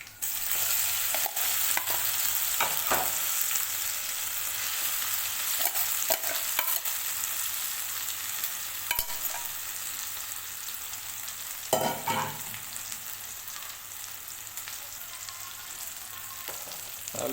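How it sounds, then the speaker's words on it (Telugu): Raw mango and dried red chilli chutney being stirred into sizzling tempering oil, a continuous close hiss broken by sharp spoon scrapes and clacks against the pan. "ఈ పచ్చడిని ఈ తాలింపులు వేసేద్దాం"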